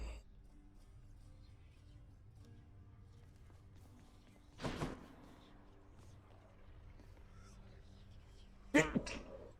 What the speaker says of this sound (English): Ooh, that was a sneeze.